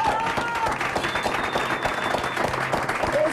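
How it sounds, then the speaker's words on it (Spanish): A TV studio audience applauds loudly in a dense, continuous wash of clapping with a faint crowd murmur underneath. "Fuerte el aplauso."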